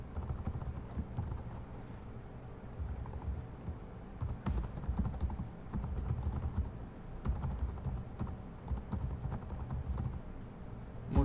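Code is typed on a computer keyboard, with irregular bursts of close key clicks over a low background hum and no voices.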